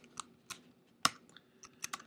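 Code is typed on a computer keyboard during a programming lecture: sparse, quiet key clicks land irregularly, with one sharper press in the middle, close and alone without talk.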